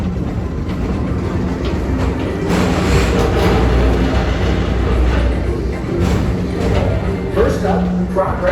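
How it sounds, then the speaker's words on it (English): Walt Disney World Magic Kingdom PeopleMover ride car rolling steadily along its elevated track, a continuous near rumble with faint clicking, under a narrator's voice. "your express train keeps on rolling through the future"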